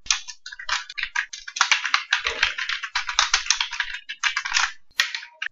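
Fast, steady clicking of a computer keyboard while HTML heading tag code is typed, close and crisp with brief pauses between bursts of keystrokes.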